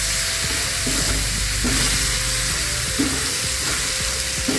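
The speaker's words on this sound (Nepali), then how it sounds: "यसलाई चलाउनु पऱ्यो" Oil sizzles steadily in a pan while choila salad is stirred, with repeated scraping strokes of the spoon breaking through the continuous frying hiss.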